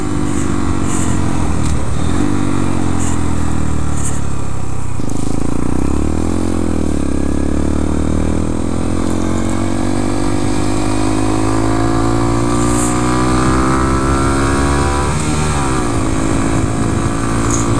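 A 2014 Honda Grom motorcycle's small engine drones loud and close while riding, revs climbing and falling in steady sweeps through short gears with brief dips at shifts, throughout without pause.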